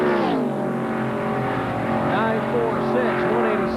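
Mark Martin's NASCAR Winston Cup car screams through turn 4 on a Daytona 500 pole qualifying lap in 1994, a loud sustained engine whine with shifting pitch under a commentator's voice.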